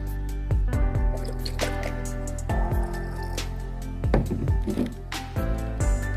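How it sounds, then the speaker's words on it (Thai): Liquid being poured back into a Pocky can holding a homemade ant and insect repellent, heard as close wet dripping and splashing with irregular drops and gurgles over a steady low hum. "แล้วเราจะเทคืนลงไปรวมกับน้ำที่อยู่ในกระป๋องป๊อกกี้นี้นะครับ"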